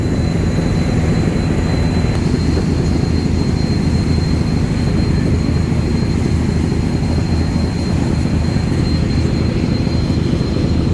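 Sundarban 14, a river launch with a Daihatsu engine driving its propulsion, passes very close while overtaking on the Buriganga river, a loud, steady engine roar and rushing water that stay constant throughout with no talk.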